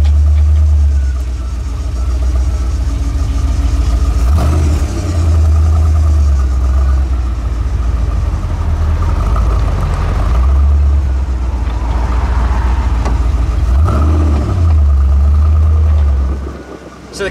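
A Rover V8 car engine runs during a road test on a damp, soggy road. It sounds close and loud, with a steady deep rumble and a few brief shifts in pitch, then fades at the end.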